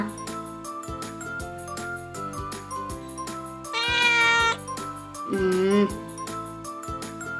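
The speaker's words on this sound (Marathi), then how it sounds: "ते बघा माझी शहाणी मांजरं कशी" Two clear, drawn-out meows rise from hungry cats waiting at mealtime, standing out over a soft background of steady music tones.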